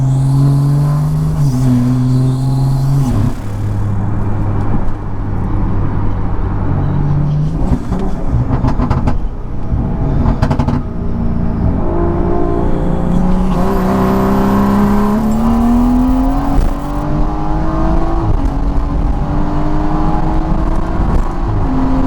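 A BMW F30 running on E40 ethanol accelerates hard; engine pitch climbs steadily through the gears with brief dips at shifts, loud and continuous from inside the car, with no talking.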